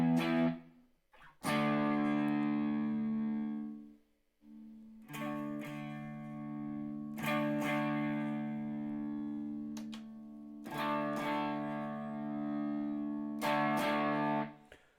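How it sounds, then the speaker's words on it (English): Electric guitar played through an amp preset with an edge-of-breakup tone, ringing chords and sustained notes in several phrases with short pauses, slightly gritty and full, no talking. "So now we've got an edge of breakup sound."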